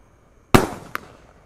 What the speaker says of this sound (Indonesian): ini ada mercon Raja Wali terbang guys. Kita lihat sudah menyala.